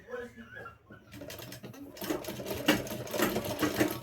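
Sewing machine running steadily while stitching a small Laddu Gopal deity dress, a continuous close mechanical whir that grows louder and busier partway through, with a voice talking over it.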